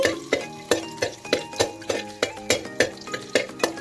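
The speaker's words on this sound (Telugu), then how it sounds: "పచ్చిమిరపకాయలు కూడా వేసుకోవాలి వీటన్నిటిని కూడా పచ్చివాసన పోయేంత వరకు కలుపుకుంటూ ఫ్రై చేసుకోవాలి" Green chillies stir-fried in a pan, with a steady rhythm of sharp spatula scrapes and clinks against the pan, roughly three per second, over a low sizzle, close and clear.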